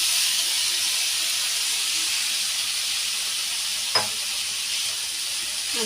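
Cooked mutton keema frying in masala, giving a steady close hiss and sizzle throughout, with one brief stir or clack partway through.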